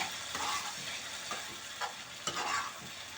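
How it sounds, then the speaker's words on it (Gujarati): Masala okra curry being stirred in a pan, with soft scraping strokes at a steady rhythm over a faint, constant sizzle, close and fairly quiet with no voices. "અને આપણે એને હલાવી નાખશું"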